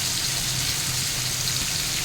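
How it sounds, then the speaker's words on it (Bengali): Rohu fish and small amudi fish frying in oil in a pan, a steady dense sizzle that holds evenly from start to finish, close and moderately loud with no talk. "দেখুন এদিকে রুই মাছ ভাজছি আর এদিকে আমুদি চুনো ভাজছি"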